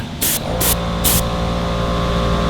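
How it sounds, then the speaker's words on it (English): A full-size air compressor kicks on and runs as a steady, loud hum and drone throughout, with three brief hissing bursts of spray from a quick-change airbrush near the start. "You hear the air compressor kicking on."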